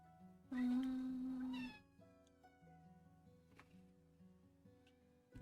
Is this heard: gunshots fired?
no